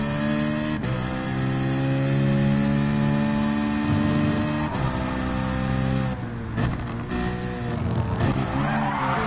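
A car in Gran Turismo Sport skids and slides through a drift, its engine holding a steady droning tone while tires squeal and scrub, then the pitch drops and wavers near the end.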